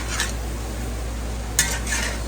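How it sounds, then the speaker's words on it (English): Meat sizzling on a Blackstone griddle, a constant low hiss under a couple of sharp metallic scrapes and taps from a spatula, close and with no talk. "I love, love, love cooking this on the Blackstone."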